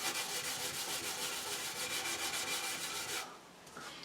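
A Brillo pad rubbing lightly over chrome trim, a steady rhythmic scrubbing rasp close up, stroke after stroke, then dropping away to quieter, sparser rubbing near the end.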